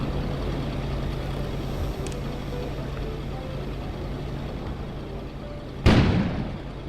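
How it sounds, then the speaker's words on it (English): In a video game, a low rumbling ambience hums along quietly, then a single sudden explosion booms out near the end and fades away. "An explosion suddenly occurred outside."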